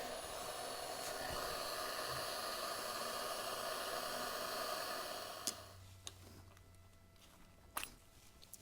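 A heat gun blows hot air to soften a part on a John Deere S100 riding mower, a steady hiss that runs for about five seconds and then cuts off, followed by a few faint clicks and knocks.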